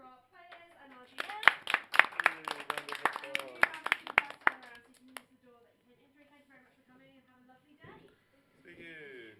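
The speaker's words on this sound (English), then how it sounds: "can we please have a round of applause for our players and our GM?" Audience applause for the players and GM at the end of a tabletop game session, a few seconds of close, bright, brisk clapping from a small group, then quiet and brief talk afterward.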